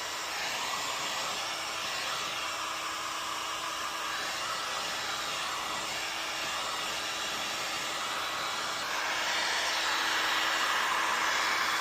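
A heat gun blows a steady, loud whooshing roar while heating tint wrap on the taillight of a 2019 or later Chevrolet Silverado, holding constant throughout and briefly rising in intensity near the end.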